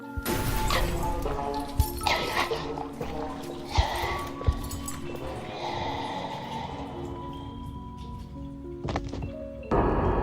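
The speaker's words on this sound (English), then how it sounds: "the monster breaking into the lab room and with glass being heard to be shattered" Glass shatters as a monster breaks into a lab room in the video game Amanda the Adventurer 3, a dense crash with scattered sharp impacts over a busy, layered game soundtrack.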